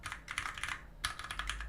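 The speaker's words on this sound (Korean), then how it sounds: "흑축보다 이 전반적인 스위치 타건음의 볼륨이 커요" Rapid typing on a Matrix Abel custom mechanical keyboard: quick, close clacking keystrokes in uneven bursts with a short pause midway, crisp and fairly quiet, with no talking.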